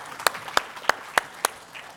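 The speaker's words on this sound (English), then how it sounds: "Let's give her a round of applause." A handful of separate, sharp claps at a steady, unhurried pace during an innovation talk, each crisp and distinct with quiet gaps between them rather than a dense wash of applause.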